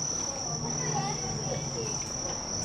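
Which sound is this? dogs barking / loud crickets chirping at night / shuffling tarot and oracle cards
loud crickets chirping at night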